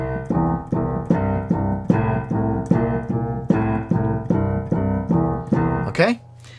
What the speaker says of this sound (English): Okay, so we're taking the whole thing and just sort of flipping it round.